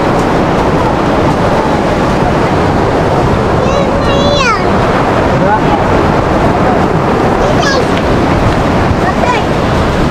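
Sea waves surge in a loud, continuous roar of surf, thick with wind noise buffeting the microphone, while brief faint voices and a few thin squeaks surface near the middle.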